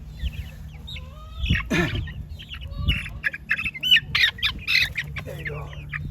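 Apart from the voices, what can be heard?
chickens clucking in a backyard flock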